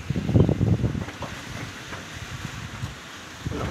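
Strong gusting wind buffets a rooftop with loose corrugated iron sheeting and a pigeon house, making a steady roar with a louder rumbling burst near the start and scattered clatters, recorded close with wind noise on the microphone.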